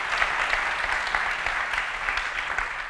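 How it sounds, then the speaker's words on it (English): A keynote crowd at a 2019 tech conference breaks into sustained applause, a dense, even roar of many hands clapping with no talk over it. "So a round of applause to the team in Sofia."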